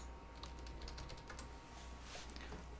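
Short bursts of computer keyboard typing come quietly and close up, key clicks tapping in a quick uneven rhythm as ipconfig is entered at a command prompt.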